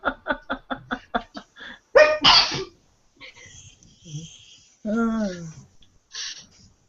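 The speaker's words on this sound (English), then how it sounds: "No one noticed you sneezing" A sneeze bursts out loudly during a casual online hangout, following a run of short rhythmic bursts and followed by quieter talking and a voiced exclamation.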